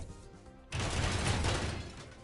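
The Germis 92 cannon in the game Front Mission 2 Remake opens up after a quiet low hum. The fire comes as a sudden loud, dense burst of rapid blasts that rumbles on for about a second and a half, then fades.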